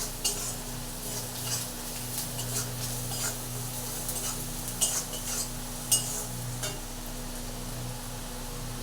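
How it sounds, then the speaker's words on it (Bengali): A spoon stirs ground spices into browned onions in a pan, scraping and clinking repeatedly over a faint sizzle and a low steady hum, with a couple of sharper metal taps. "গুঁড়ো মশলাগুলো দিয়ে এটাকে ভালো করে নাড়তে থাকবো"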